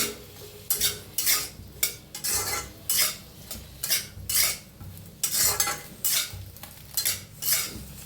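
Onion dry-roasting in an iron kadai with no oil yet, stirred in rhythmic bursts of scraping roughly every half second, each stroke loud and close with short pauses between.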